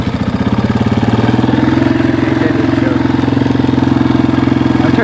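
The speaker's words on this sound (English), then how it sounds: "I'll do a cold start here for you." A 2003 Honda CRF230F dirt bike idles after a cold start with the choke on, a loud, close, steady single-cylinder thumping putter that stays even throughout.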